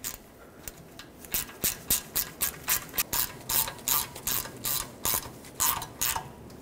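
Ratchet tightening the bolt on a rear ABS wheel speed sensor of a 2011-2016 Ford F-350 Super Duty, a close, steady series of about fifteen sharp clicking pawl strokes in even rhythm.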